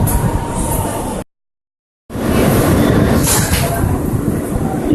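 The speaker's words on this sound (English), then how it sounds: "This is a Manhattan-bound Q train." A Manhattan-bound R160 Q train on the New York subway's Brighton local line rumbles loudly with steady wheel and track noise, briefly cut to silence before the running roar resumes.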